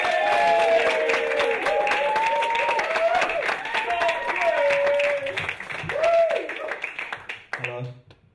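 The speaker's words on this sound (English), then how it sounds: "please give a massive, massive round of applause to our first act, is Tom Kwei" Audience applause for poet Tom Kwei at a spoken-word night at The Castle, clapping steadily under a loud voice that carries across most of the stretch before tapering to scattered claps.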